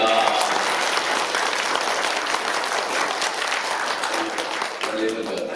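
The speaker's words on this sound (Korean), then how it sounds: "우리 다시 한번 우리 박수하도록 하겠습니다" A church congregation applauds during a Sunday worship service, a dense, even wash of many hands clapping that holds steady throughout, with a voice faintly present beneath it.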